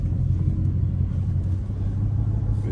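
A cleaned-up Dodge Charger SRT8 rumbles steadily from the cabin on an early-morning drive, a loud, continuous low engine drone with no voices.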